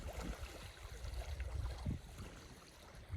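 Small waves lap gently and steadily against the lakeshore of Paulina Lake in Newberry National Volcanic Monument, a soft continuous wash with light wind buffeting the microphone, no voices present.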